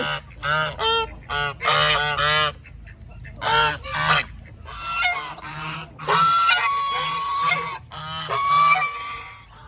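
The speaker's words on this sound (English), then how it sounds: "The geese have a lot to say." Geese honk loudly and repeatedly close by, several birds calling over one another in noisy, overlapping bursts.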